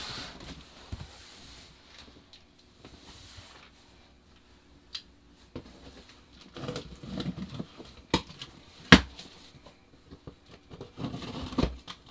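Cardboard boxes holding Primal RC Raminator monster truck axle parts are cut open by hand, giving scattered soft scrapes, taps and rustles at close range, with a few sharper clicks and tearing bursts toward the end; no talking.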